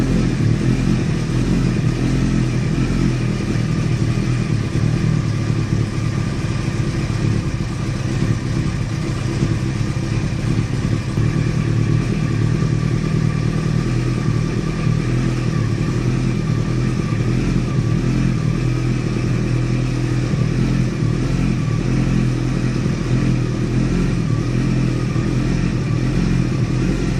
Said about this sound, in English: Hear the lovely exhaust note, which I think is the best one.